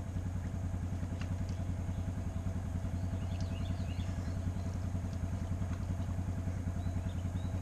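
A Honda Fourtrax 300 ATV engine idles steadily with a fast, even low throb, close and constant throughout, while the machine sits partly underwater with a leaking carburetor; faint clatter is scattered over it.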